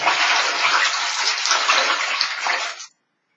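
Water with a little Woolite is swished around by hand in a basin, a steady close sloshing and rushing for about three seconds before it stops abruptly.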